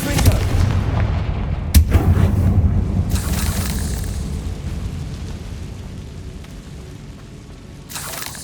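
Confringo fire spell exploding in the Hogwarts Legacy video game: a loud, deep, rumbling blast that decays slowly, with a sharp crack early on and a second burst near the end.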